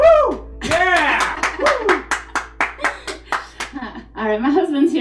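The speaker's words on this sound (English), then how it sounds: "I told him to clap emphatically after every song" Hands clap in a rhythmic run after a song at a live entertainment set, the claps steady and close while a voice whoops and talks over them.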